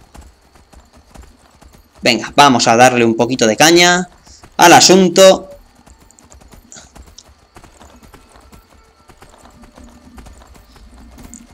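A horse's hooves clip-clop at a steady pace while riding in Skyrim, the fantasy video game, sitting quietly beneath someone speaking Spanish before continuing faintly on their own.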